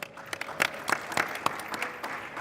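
Audience at a live school choice expo podcast applauds newly introduced guests, a student and his mother, with steady, moderately loud clapping from a room of people, a few sharper claps standing out.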